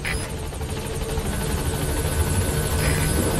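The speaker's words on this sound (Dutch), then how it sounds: "dus dan moeten we de helikopter oproepen." Support helicopter arriving at a landing zone in Metal Gear Solid 5, a loud continuous rotor drone with steady beating that fills the whole stretch alone.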